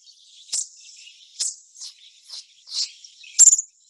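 Recorded bird call notes: a series of about six short, high-pitched chip-like notes spaced roughly half a second apart, with a louder, sharper note near the end, heard alone against quiet background.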